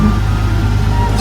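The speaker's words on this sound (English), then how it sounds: "there's a lot of road noise without a floor" Steady loud low road rumble and drone heard from inside a 1948 Ford body swapped onto a Ford Ranger chassis, with no floor fitted, continuous and close throughout.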